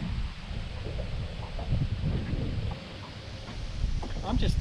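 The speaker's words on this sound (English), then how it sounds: "Especially with the wind the way it is." Wind gusting on Lake Lanier in bad weather, heard as low, buffeting rumbles against the microphone with scattered faint knocks, and a voice speaking briefly under it.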